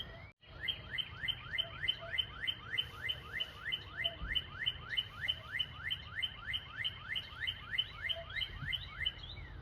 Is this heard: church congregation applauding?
no